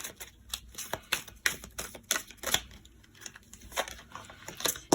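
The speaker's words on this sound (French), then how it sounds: "On va tirer une autre carte." Tarot cards are shuffled and drawn by hand, producing quick papery flicks, snaps and rustles in close, soft bursts.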